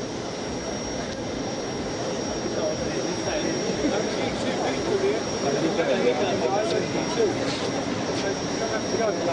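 A parked plane's engine whining steadily with a high tone as the Prince of Wales and Duchess of Cornwall disembark in Kumasi, a loud constant drone under a crowd and talk.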